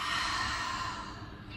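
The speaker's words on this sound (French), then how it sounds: "Expirez par la bouche." A long, steady exhalation through the mouth during a morning yoga breathing exercise, a soft broadband breathy rush heard close and alone that eases off slightly toward the end.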